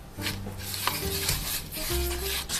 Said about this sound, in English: Add a tablespoon of sugar and mix until smooth.